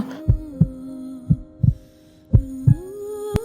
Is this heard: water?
no